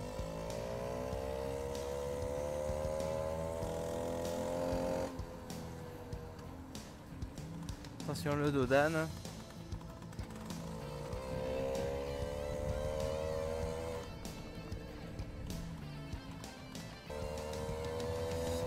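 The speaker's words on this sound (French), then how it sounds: "J'espère que le bruit du moteur vous casse pas trop les oreilles" A moped engine drones steadily while riding up Mont Ventoux, a buzzy, harmonic two-stroke whine that rises and falls in pitch with throttle changes, sharply revving once midway, with a rider speaking briefly over it.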